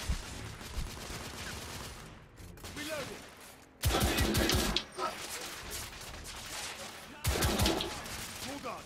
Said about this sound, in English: It's a shotgun.